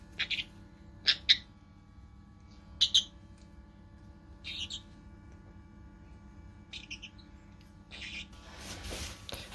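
Baby parrots being hand fed give short, high, squeaky squawks in scattered bursts, some in quick pairs, close and moderately loud over a quiet hum, with a rustling burst near the end and no talking.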